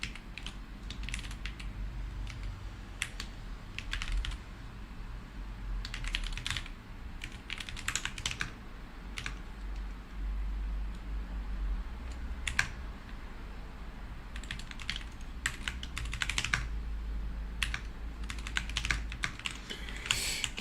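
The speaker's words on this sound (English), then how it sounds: "It's a Nufi field 75HE with Gatoron magnetic wide." Typing on a NuPhy Field75 HE keyboard with Gateron magnetic switches, heard as bursts of quick, close keystroke clicks separated by short pauses over a faint background hum.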